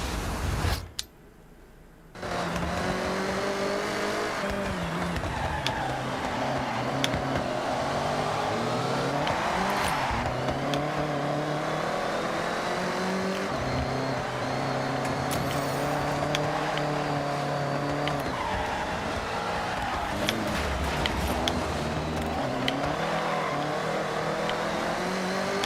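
A race car in Forza Horizon drives hard through a long run, its engine note climbing and falling with repeated shifts and brief tire squeals, loud and continuous throughout, with no talk.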